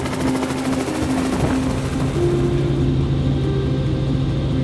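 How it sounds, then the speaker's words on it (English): A helicopter runs loud and steady nearby as it takes off, its rotor chop and engine whine forming a continuous, even roar throughout. "I think it's time to take off."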